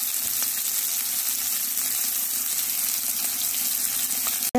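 Chopped onion frying in a pan with beef and broccoli cooking nearby, a steady loud hissing sizzle that continues without break, ending in a brief sharp knock; no talking.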